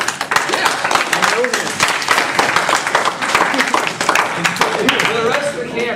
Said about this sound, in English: it's very important that we begin with a huge round of applause for me